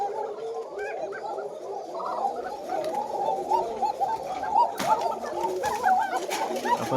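Many coca pigeons cooing together at a farm: a dense, continuous layer of overlapping throaty coos and rolling calls, close and steady, with no clear talking.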